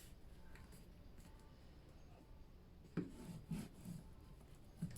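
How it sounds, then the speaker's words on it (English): Paper is burnished down onto a gate-fold mini album, a few quiet, close rubbing strokes that scrape softly in short bursts against a faint background. "Giving that a good burnish."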